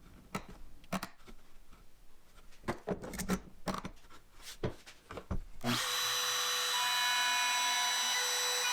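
A power tool rips plexiglass into strips: after several sharp knocks and clatters, a loud, steady high-pitched cutting whine starts and runs continuously to the end.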